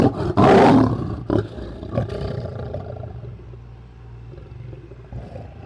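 A young lion cub gives a sharp, loud roar, then a few shorter growls and huffs that trail off into quiet rumbling and faint background noise.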